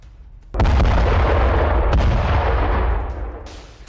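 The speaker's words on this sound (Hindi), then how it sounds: "देखिए अचानक से एक जोरदार धमाका होता है।" A sudden, powerful explosion from an air strike in Lebanon booms out and rumbles on for a few seconds, its deep roar slowly fading.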